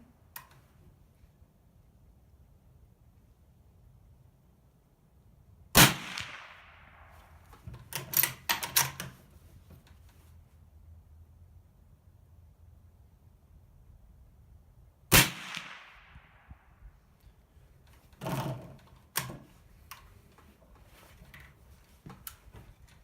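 Two sharp suppressed .22 gunshots fired through a Rugged Surge 762 suppressor in its short configuration, each a crisp crack with a brief decaying tail, followed by clicks and clacks of handling, in an otherwise quiet setting.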